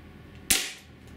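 A Benjamin HB22 .22 calibre multi-pump pellet pistol fires once after four pump strokes, a single sharp, close crack that decays quickly into quiet.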